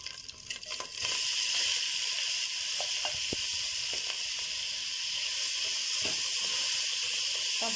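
Onions hitting hot oil in a pan for kofta sauce, a sudden loud sizzle that settles into a steady close hiss with faint crackles.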